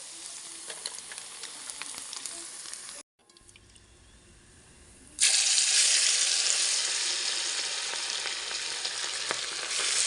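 Chicken pieces coated in cornflour frying in hot oil, a dense hiss that drops away briefly, then surges back loud and crackling when more pieces go into the oil.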